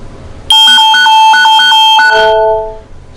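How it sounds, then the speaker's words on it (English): A loud electronic Nest Secure home security alarm siren beeps in a rapid pulsing pattern of tones, then sustains briefly before fading out. "The alarm will sound in 10 seconds."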